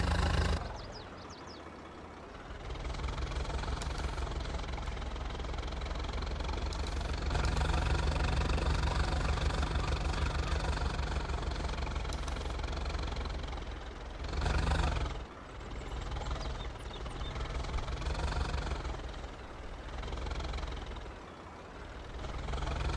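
A tractor engine in Farming Simulator 22 runs continuously, a mid-pitched chugging drone that swells louder after starting, holds steady, then briefly dips and picks up again, with no one talking.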